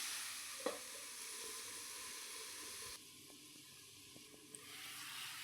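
Shredded cabbage cooks in a pan under a lid, a soft steady sizzle and hiss close by. The sound drops quieter partway through and a few faint clicks follow, with no talk.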